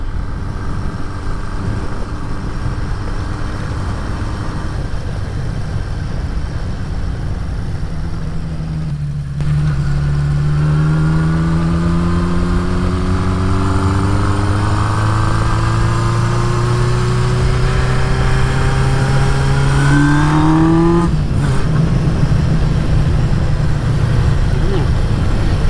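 A Honda CB550 motorcycle engine runs while riding, with a loud steady drone whose pitch rises and falls as the gears shift, and wind rushes underneath.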